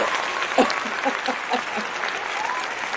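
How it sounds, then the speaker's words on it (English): Light applause on a podcast, a modest patter of clapping from a small group, steady and fairly soft with a few distinct louder claps near the start. "So Christy, I love the golf clap."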